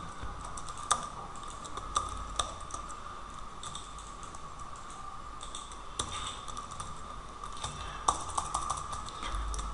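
Computer keyboard typing as code is entered, soft and steady clicking with occasional louder key taps under a constant faint background hum.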